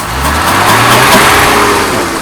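A Mercedes W123 280E, back on the road after more than fifteen years off and with a repaired fuel distributor, runs just after starting: a loud, close, steady engine drone with a slight rise in revs.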